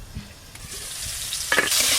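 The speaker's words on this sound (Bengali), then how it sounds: "ফুলকপিগুলো ভালো করে ভাজা হয়ে গেল" Cauliflower pakoras fry in hot oil with a steady, close hiss. A few stirring knocks come early, and the sizzle swells louder toward the end.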